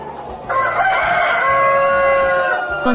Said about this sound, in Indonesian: Wah, ayam jago, teman-teman.